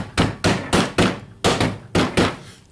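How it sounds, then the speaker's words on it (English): Six firm, dull thuds from a rubber hammer tapping a Makita DKP180 planer housing during teardown, spaced in a loose rhythm, close and fairly loud. "gently hammering it."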